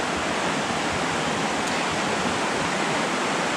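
A river rushes along below a hiking trail, making a steady, loud, unbroken roar of flowing water that holds at the same level throughout, with no voices.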